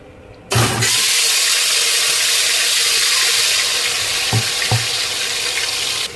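Marinated chicken drops into hot oil with cumin for biryani, setting off a loud, steady broadband sizzle that holds for several seconds, with a couple of soft knocks near the end.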